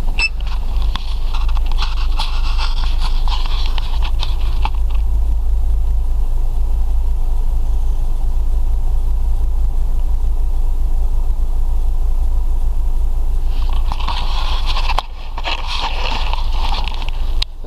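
A Chrysler PT Cruiser 2.0 engine idles on LPG gas, a steady, close, low rumble that holds evenly throughout, with brief higher-pitched noise near the beginning and end.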